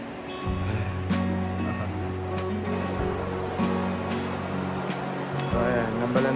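The Nambalan River rushes steadily and fairly loudly over its bed, a continuous broadband wash with a few sharp clicks and a low hum running beneath it.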